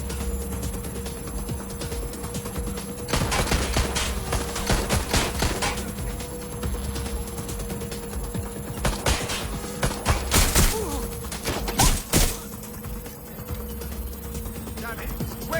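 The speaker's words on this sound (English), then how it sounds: "Go to find cover! They're shooting!" Gunfire in the video game Watch Dogs Legion: repeated bursts and sharp cracks of shots, some close and loud, over a steady game background hum, with a voice talking at times.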